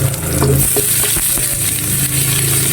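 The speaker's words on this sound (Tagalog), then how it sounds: "igisa na tayo bawang. Yan. Tapos sama natin yung sibuyas. Mainit na yung kawali natin." Garlic and onion sizzle steadily in a hot pan while being stirred, a continuous close frying hiss with clinks of the utensil, no voices.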